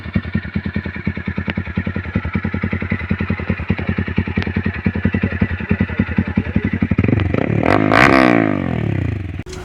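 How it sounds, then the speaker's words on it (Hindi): A Zxmco KPR Cruise 200 motorcycle with an aftermarket M4 exhaust idles with a loud, rapid, lumpy exhaust beat up close, then revs sharply near the end with a rising roar. "M4 का एग्जॉस्ट लगवाने के बाद हम इसके आपको साउंड सुनाते हैं।"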